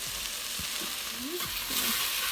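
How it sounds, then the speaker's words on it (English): Garlic and mixed vegetables sizzle steadily in a hot pan while a utensil stirs them, with a few scraping strokes against the pan; steady, close and alone, with no talking. "Mix that together."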